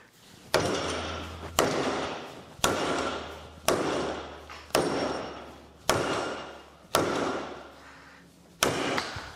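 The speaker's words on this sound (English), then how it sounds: "as long as you direct the blows with the hammer appropriately" Eight loud, sharp hammer strikes bend a metal mounting at a steady pace roughly a second apart, each ringing briefly before fading.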